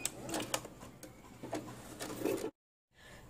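A sewing machine stitches fabric while making a button facing for a romper, with a steady, close mechanical whir and rapid needle clatter that cuts off abruptly, then resumes more quietly.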